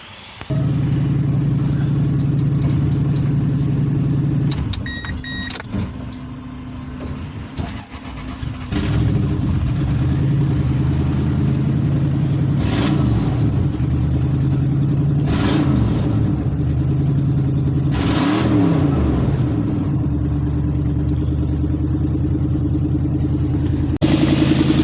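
A 2004 Toyota Tundra SR5 engine cranks, starts and settles into a steady idle close by, with a few revs rising and falling over its continuous low rumble.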